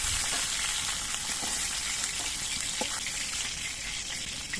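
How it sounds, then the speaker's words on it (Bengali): Fresh Ganges fish fry in hot oil in a pan, giving a loud, dense and continuous sizzle up close, with faint crackles and no talking. "বাকি মাছগুলো ভেজে নিচ্ছি"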